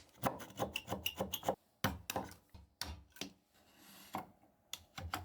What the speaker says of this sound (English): I'll cut them out with a saw and chisel